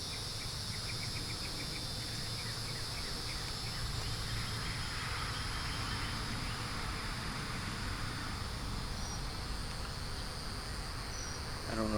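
Honey bees hum around an open nuc hive during a frame-by-frame inspection, a soft, continuous buzzing wash close by with a steady high whine on top, no talking.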